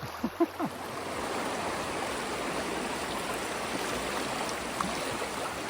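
Rough water of the Dead River in Maine rushes through a gorge lined with rock shelves, a loud, constant roar heard up close, with a few brief knocks at the start.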